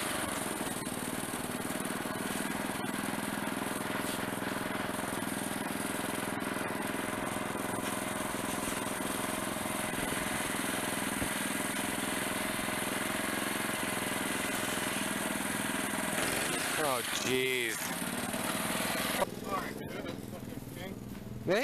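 A 1989 car engine idles roughly at close range for most of the clip, with a brief change near the end as it revs or cuts out.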